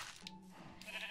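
A sheep bleats in Legend of Eytra, a short wavering cry that comes through clearly against steady in-game ambience.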